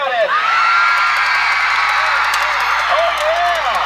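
Marching band members scream and whoop together in a loud, sustained crowd roar, with rising yells breaking through the din.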